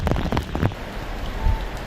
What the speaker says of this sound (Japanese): 通勤の時間帯に合わせて一段と雨足が強まってきました。